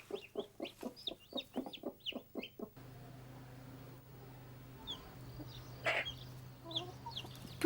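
A hen and her chicks cluck in a farmyard, starting with a quick rhythmic run of near, loud clucks, then softer scattered calls and peeps over a steady low hum.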